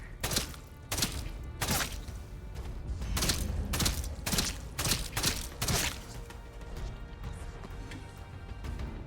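Rifle fire in the video game Atomfall, a string of sharp, loud shots in uneven bursts, some spaced and some in quick pairs, with a low rumble between them.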